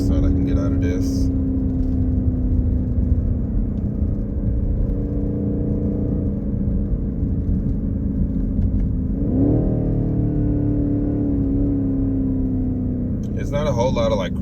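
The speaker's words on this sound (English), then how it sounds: "Try out the manual mode in Sport Plus to see what kind of exhaust sound I can get out of this." A 2023 BMW X6 M50i with a V8 in Sport Plus and manual mode gives a deep, droning exhaust note as it pulls and accelerates, with a rising shift in pitch partway through and road rumble underneath.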